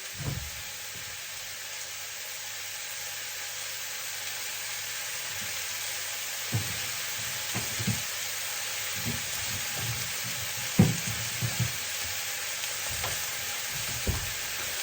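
Kale frying in a pan gives a soft steady sizzle, with occasional clinks and scrapes of stirring that grow more frequent later on.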